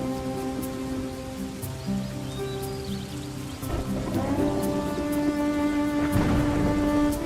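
Heavy rain pours steadily in a 2D animated Hindi story, a dense continuous hiss of falling water with a low background score beneath it, no voices.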